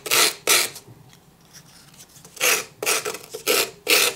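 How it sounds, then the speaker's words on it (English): Sandpaper rasps along the cut paper edges of a decorated craft egg in a series of five or six short, close scraping strokes, with a brief quieter gap in the middle. "I like to take the edges and just sand them"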